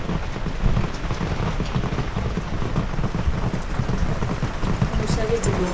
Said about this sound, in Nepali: पानी पर्यो पानी परेको परेको छ